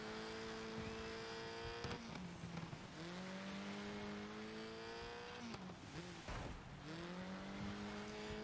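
Race car engines in the video game DiRT 5 rev hard through gear changes, with rising whines that drop at each shift and tires squealing between, loud and close with no talk.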